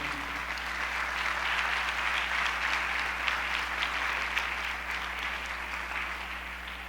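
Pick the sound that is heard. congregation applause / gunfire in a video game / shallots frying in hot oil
congregation applause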